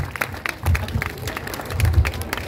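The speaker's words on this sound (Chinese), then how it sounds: "你们要再掌声久一点啊" An audience claps for a musician at a weekend evening outdoor performance at a fisherman's wharf in Tainan, Taiwan; the clapping swells and fades in two uneven bursts, with low rumbling crowd noise.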